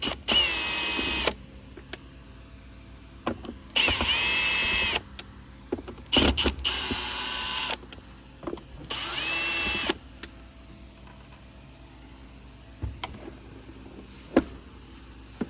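A power drill backs screws out of a Hoover Commercial Insight vacuum in four loud, whining bursts of a second or so each, separated by quieter handling clicks and clatter.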